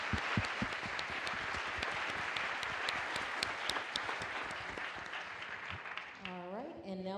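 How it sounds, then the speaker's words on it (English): An audience at a NASA press briefing applauds, a dense patter of clapping hands that holds steady and then tapers off before a speaker begins talking at the end. "So I do want a round of applause for the flight dynamics team, by the way."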